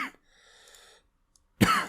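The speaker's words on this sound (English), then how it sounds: "Sorry about the cough, guys." A single close, sharp cough from a person ends a short stretch of near silence with faint background sounds.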